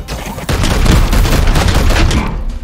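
A rapid burst of gunfire in the video game Warhammer 40,000: Chaos Gate - Daemonhunters, shots crackling in quick succession for a couple of seconds with little pause between them.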